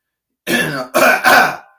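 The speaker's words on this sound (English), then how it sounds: "stop clearing your throat in my match" Three quick, gruff bursts of someone clearing their throat, close and loud, with short pauses between them.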